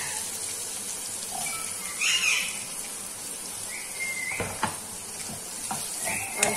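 Chopped onion fries in a pan over medium heat with green chilies for a Rajasthani besan gatte curry, giving a steady, close hiss with faint stirring scrapes and no talk.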